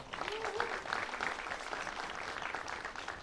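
A crowd at a youth group's performance showcase claps steadily in sustained applause, a dense even patter of many hands at moderate distance.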